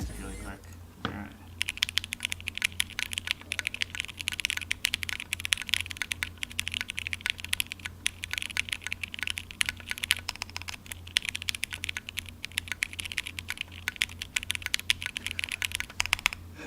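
Someone types fast and steadily on a custom mechanical keyboard in a close-miked sound test. The keys give a dense, crisp clatter that runs for the whole stretch over a low steady hum, with no one talking.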